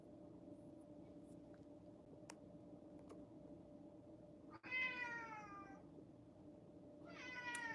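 A pet cat lets out two loud, drawn-out meows, close by, each lasting about a second, set against a quiet background of steady hum and a few faint ticks.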